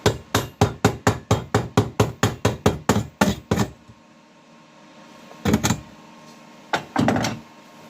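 A rapid series of about fifteen sharp metallic hammer strikes chipping slag off a stick weld, close and loud, then a pause and a few more scattered bursts of tapping.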